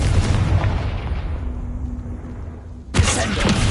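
A Confringo spell explosion in the video game Hogwarts Legacy: a burst opens loud, fades through a low rumble, then a second sharp blast hits near the end, with a brief voice.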